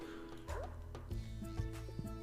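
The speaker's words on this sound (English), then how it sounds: "Why did you bark at me, Leah, when I kissed you?" A character in the Stardew Valley video game gives faint, quick barking yips, several short bursts spread across the moment at low volume.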